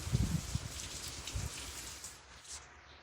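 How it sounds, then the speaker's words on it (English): Rain from a hurricane falls steadily, pattering on a surface nearby aboard a catamaran, with a few heavier drips at the start before settling into a soft, even hiss. "A lot of rain."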